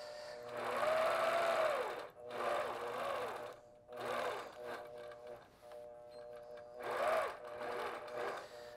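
A longarm quilting machine stitches in several separate runs, each a few seconds long, as it follows rulers across a log-cabin-style quilt. The motor whirs up and down between the runs, and there is no talking.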